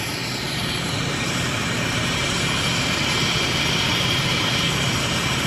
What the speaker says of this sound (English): there are 2 helicopters that are landing here at the scene